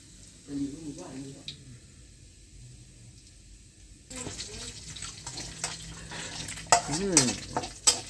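Garlic stir-fried in a pan as the base for a crab curry, a soft sizzle and scraping stir that grows busier and louder partway through, with occasional clinks; a person talks over it early on.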